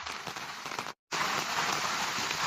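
Steady, dense rain falls all morning in a mountain setting, a constant close hiss of drops on surfaces, broken by a brief silent gap.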